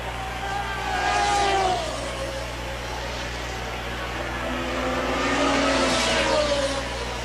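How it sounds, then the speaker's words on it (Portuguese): René Arnoux's worsening Formula 1 car engine at the 1981 British Grand Prix roars past twice, swelling and fading with a steady low rumble under crowd ambience. "O barulho do motor do Arnaud a cada volta complica mais, piora mais"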